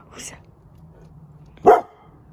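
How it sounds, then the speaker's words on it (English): A dog barks, one sharp loud bark near the end after a fainter earlier yelp, with household murmur around it during a family Thanksgiving gathering. "Hear another dog."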